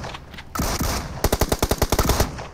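UMP submachine gun in a mobile battle royale game, a long close-range burst of about fifteen rapid, evenly spaced shots after a brief rising whoosh.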